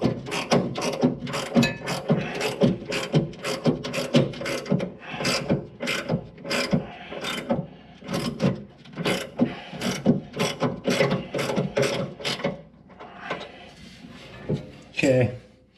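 A ratchet clicks in rapid bursts while tightening the stationary knife on a John Deere Model 15 flail chopper, a sharp, close, repeated pawl rattle with brief pauses and some metallic handling.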